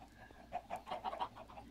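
Minecraft chickens cluck in a quick, soft burst of several short clucks close together, with no voices over them.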